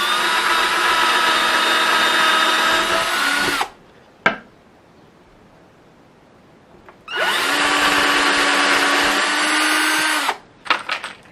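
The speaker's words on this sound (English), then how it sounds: "I'm going to go ahead and run some pilot holes just with this little drill bit here" A small power drill whines loudly into wood making pilot holes for several seconds, stops, then a second long burst follows, with a brief click and quiet gap between.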